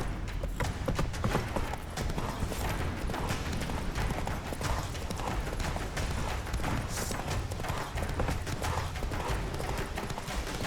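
A horse gallops hard in The Witcher 3: Wild Hunt, with fast, dense hoofbeats over rumbling ambience throughout.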